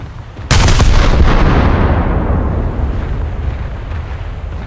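Naval guns in World of Warships fire in a single loud, close boom, followed by a long rumbling tail that slowly fades over several seconds.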